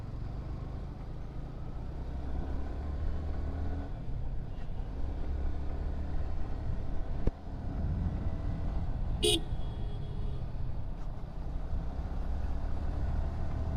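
Heavy road traffic in Trichy, a steady low rumble of engines with a few car horns toots cutting through, one sharp honk standing out midway, continuous and fairly close.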